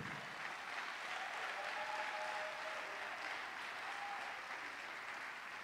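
Applause from a conference crowd in Abidjan carries on without a break, a dense patter of many hands that sounds somewhat distant and holds at an even level throughout.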